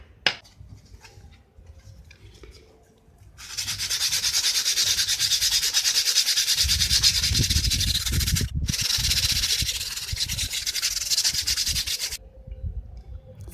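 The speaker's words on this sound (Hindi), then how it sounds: "स्क्रू ड्राइवर की हेल्प से जितना भी ब्रेक डस्ट होगी सारी की सारी निकाल" A screwdriver scrapes brake dust from between car disc brake pads, a steady, close, harsh rasping that runs for about nine seconds with one brief pause, preceded and followed by faint handling noises.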